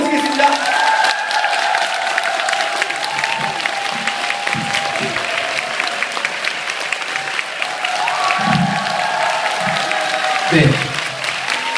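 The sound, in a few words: audience applause welcoming a lecturer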